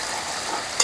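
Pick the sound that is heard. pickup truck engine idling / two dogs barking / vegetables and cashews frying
vegetables and cashews frying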